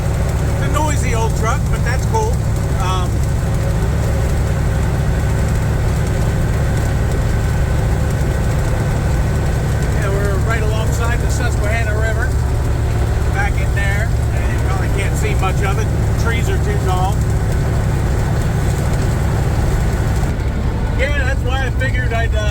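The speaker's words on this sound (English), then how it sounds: "It's a noisy old truck, but that's cool." An old truck engine drones loudly and steadily from inside the cab, a constant low rumble, while someone talks over it at intervals.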